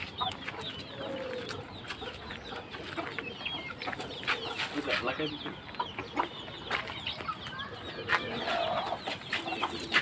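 Chickens cluck on a home poultry farm, with scattered soft clucks and bird calls at moderate distance and faint voices in the background.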